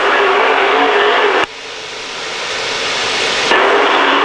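NCRA modified race cars circling a dirt track under caution, a loud continuous engine drone close by with an abrupt drop in level partway through, then a gradual swell as the cars pass again.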